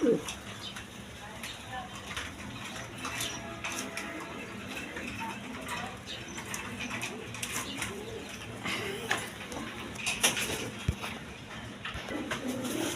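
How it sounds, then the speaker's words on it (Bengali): A pair of big, red Gorra pigeons with feathered feet coo softly at a market stall, their murmuring calls running steadily under background chatter and bustle. "এক পেয়ার রেড কালার গড়রা কবুতর একদম বিগ সাইজের চুরি মোজাওয়ালা"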